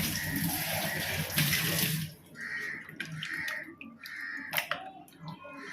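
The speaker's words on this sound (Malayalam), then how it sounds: "ഇത് മാറ്റിയിട്ട് നല്ലൊരു വെള്ളത്തിൽ വീണ്ടും കഴുകിയെടുക്കുക" Food washed under a running kitchen tap: about two seconds of loud, steady water flow, then it stops and quieter splashes, drips and small clatters follow close by.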